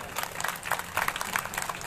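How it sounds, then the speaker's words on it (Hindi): Audience applause at a Bhagwat Katha religious gathering, dense scattered hand claps from a crowd sustained steadily at moderate level for about two seconds, welcoming arriving guests. "इनके लिए ताली बजाओ एक बार"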